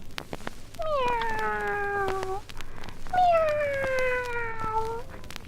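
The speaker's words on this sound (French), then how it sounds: "Le petit chat a rôdé autour de l'arbre sur ses pattes de velours en miaulant." Cat meowing on a 1960s French Christmas-story flexi record, two long drawn-out meows in a row, clear and close over a faint steady hum and surface hiss.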